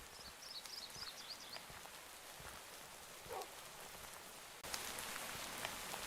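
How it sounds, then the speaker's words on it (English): Steady rain patters on surfaces outdoors as a dense, even hiss, then abruptly grows heavier and louder near the end. "Why did the rain just pick up all of a sudden?"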